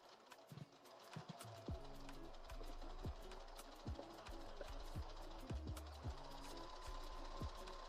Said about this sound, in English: I'm just going to do a triple stitch, understitch